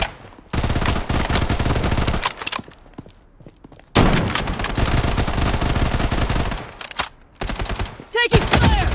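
Sustained bursts of automatic gunfire from the Bloodstrike video game, loud and dense, with rapid shots running in two long stretches separated by a brief lull and a final scattered flurry near the end.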